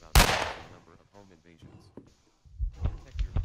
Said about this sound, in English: Alright, I shoot you.